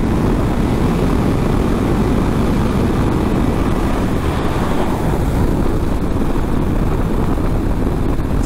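A 2021 Triumph Trident 660 motorcycle running flat out at about 170, its engine a steady roar buried under heavy, constant wind rush for the whole stretch.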